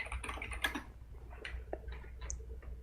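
Computer keyboard typing from a participant's open microphone, a quick irregular clatter of keystrokes with a few sharper clicks, fairly close and steady over a low background hum, with no talking.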